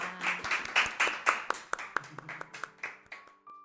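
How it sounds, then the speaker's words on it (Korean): Applause from an audience at a church radio prayer meeting, opening as a dense clatter of many hands and then thinning into scattered individual claps that slow and fade out. "그럼 네 분을 박수로 보내드리겠습니다."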